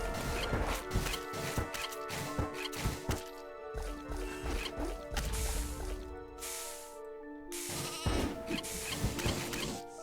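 A ram bleats in a roguelite RPG video game, several wavering, nasal baa calls rising over busy game effects, squelchy hits and clicks, fairly close and loud throughout.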